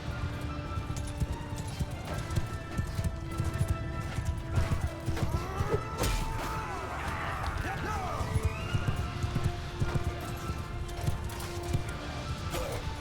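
Horses gallop in Mount & Blade II: Bannerlord with a steady clip-clop of hooves, occasional whinnies, and a dense battle din of clashes underneath.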